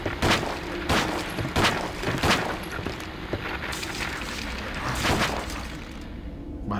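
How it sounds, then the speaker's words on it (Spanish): Repeated gunfire bursts in the survival horror game Silent Hill Origins, several sharp loud shots spaced across the span over a dense, rumbling game soundtrack. "Seis disparos"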